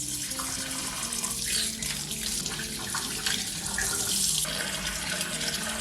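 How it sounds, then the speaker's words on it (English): Steady warm water running from a tap to rinse acid-dyed wool yarn, a continuous broad rushing hiss with a slight splashy texture, fairly close and constant throughout. "now I'm gonna just turn on my warm water, wait for it to get warm."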